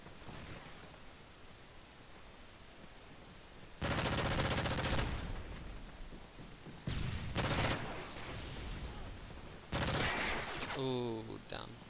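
Gunfire in Call of Duty Modern Warfare 3 multiplayer: several loud bursts of rapid automatic fire in separate bursts, close and harsh over a steady background hiss.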